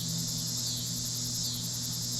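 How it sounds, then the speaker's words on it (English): Crickets and locusts chirping at night at a camping site, a dense continuous high-pitched trill with a steady pulsing buzz, moderately loud and uninterrupted. "listen to the crickets and locusts"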